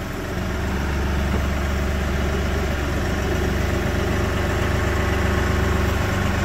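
A Kioti NS 6010 compact tractor's diesel engine idles steadily just after starting, a continuous close, loud low rumble with even mechanical vibration and no talking.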